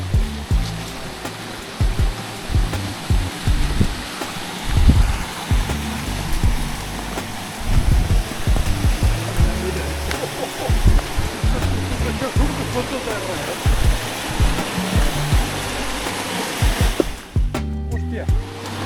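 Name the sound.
water flowing at the Font de la Saiola spring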